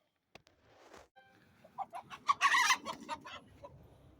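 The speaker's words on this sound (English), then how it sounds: "trying to catch a chicken. He caught a chicken." Chickens cluck in a busy run of short, bright calls that build to a dense flurry midway as someone catches one, close by and fairly loud, with some scuffling underneath.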